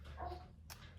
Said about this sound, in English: as well as the barking as my dog